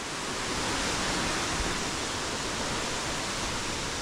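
Poličanka waterfall pouring steadily nearby, a dense, even roar of falling water that fills the scene from start to finish with no other sounds.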